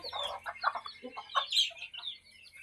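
A hen clucks nearby in a short run of uneven, throaty calls, ending with a higher squawk.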